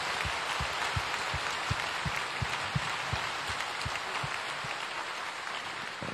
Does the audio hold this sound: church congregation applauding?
yes